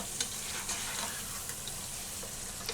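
Chicken with chili powder, turmeric and salt frying in a pan, a steady soft sizzle with occasional faint stirring clicks.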